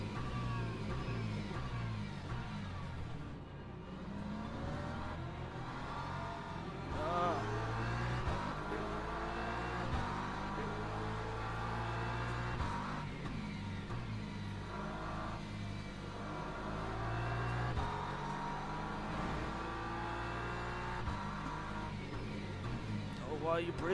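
Race cars roar around Monza in a racing video game, with engines revving and shifting through gears continuously while someone talks over the action.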